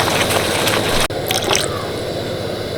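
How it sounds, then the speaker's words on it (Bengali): Water is poured into a pan of soybean gravy: a dense, hissing splash for about a second, then a sharp break followed by quieter trickling and bubbling. "এবার কিন্তু এর মধ্যে জল দিয়ে দেবো।"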